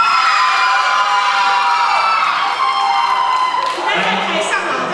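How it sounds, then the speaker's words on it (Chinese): Audience cheering and shouting at a university singing contest, the Kinmen University Golden Melody Award; a loud, sustained wash of crowd voices and whoops with some tonal vocal lines mixed in, steady throughout. "来，我们为他欢呼一下。"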